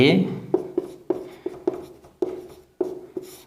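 Chalk or marker writing on a classroom board during a maths lesson, a series of distinct taps and short strokes in an uneven rhythm, close and fairly loud, following a brief burst of speech at the start.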